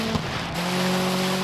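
A racing car engine in the off-road racing game DIRT 5 on PS5, a steady droning hum with a brief rise early on, then settling into a sustained even tone.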